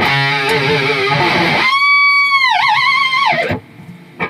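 Distorted electric guitar on a Jackson King V KVXMG chugs, then a high pinch harmonic squeals out, wavering with vibrato before cutting off abruptly.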